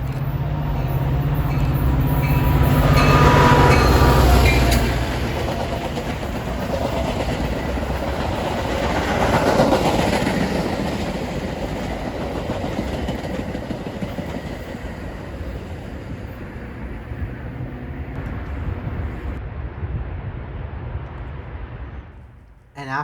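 A Metra commuter train rolls past on the BNSF line in the Chicago suburbs, a loud rumbling roar with rail clatter that swells twice before fading away to near quiet at the end.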